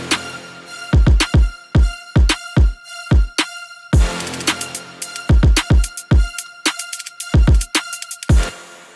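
Trap beat built in FL Studio, punchy booming kicks and snappy drum hits in a steady pattern under a layered bright string part that swells between hits, loud and up front with no voices.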